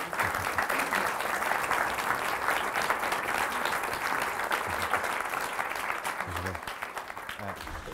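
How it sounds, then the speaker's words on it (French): Conference attendees in a hall give a steady round of applause, a dense even wash of many hands clapping at moderate distance, sustained throughout with little variation. "je vous remercie d'applaudir la présence de grand-mère Ayane Gath"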